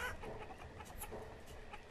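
Chickens cluck softly and continuously in the video game Banished, a low, steady farmyard murmur with no voices over it.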